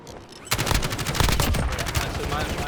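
Rapid automatic gunfire from a Call of Duty video game, near and loud, starting after a brief quiet moment and continuing as sustained bursts with a voice calling out under the shooting.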